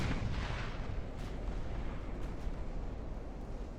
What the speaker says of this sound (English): So we'll get the big guns firing on the battleships.